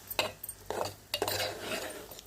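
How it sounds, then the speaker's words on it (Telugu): A metal spoon clinks and scrapes against a pan while stirring onion, drumstick and egg curry with chili powder: a handful of sharp, close knocks spread unevenly between softer scraping. "కారం వేసి మరొక్కసారి కూర మొత్తాన్ని ఇలా కలుపుకుందామండి"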